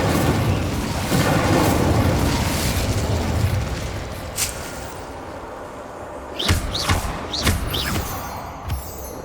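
Incendio fire spell cast at Devil's Snare in Hogwarts Legacy, a loud roaring whoosh of flame that fades into crackle, followed by several sharp pops and bursts near the end.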